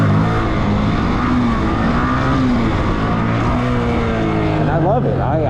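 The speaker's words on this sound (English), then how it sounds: "I'm only riding my Grom now, because it's my stunt bike at the moment." Continuous loud engine drone from a Honda Grom, a small beginner stunt motorcycle, steady and close with shifting pitch and a brief rev near the end, a voice faintly mixed in.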